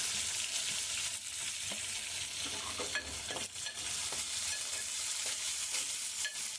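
Onions sizzle and fry steadily in a hot pan for a curry, with occasional scraping stirs and small crackles; close, continuous and fairly quiet, with no voices.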